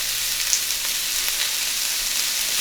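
Carrots and onion fry in hot vegetable oil, giving a steady, close, bright sizzle with small crackles and no talk over it.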